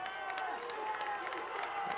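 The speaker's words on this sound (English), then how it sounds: "The crowd's getting into it." A steady, dense roar of a crowd at a 2003 City High vs West varsity high school football game, voices blending into a continuous cheer with scattered shouts throughout.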